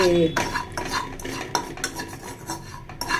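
A utensil stirs and scrapes through drumstick-leaf chutney ingredients roasting in a metal pan, with repeated clinks and scrapes at an uneven rhythm, close and fairly loud, with no talking.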